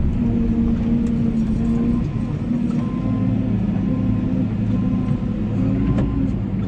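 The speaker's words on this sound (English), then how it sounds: "Let's follow the Lorry in." A lorry drives in at a truck loading site on a wet, windy day, its engine rumbling loud and steady throughout with a low droning hum and no pauses.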